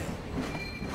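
Moving train in Grand Theft Auto V, a steady low rumble of rolling wheels and rail noise filling the whole second at close range, with a faint high squeal running above it.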